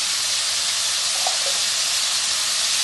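Cumin, garam masala and salt sizzle and fry in a pan for masala stuffed eggs, a steady loud hiss with no break and no voices.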